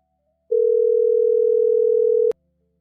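A telephone dial tone sounds as a phone line is opened: one steady, clear, continuous tone lasting nearly two seconds, cut off by a sharp click, followed by a faint low buzz.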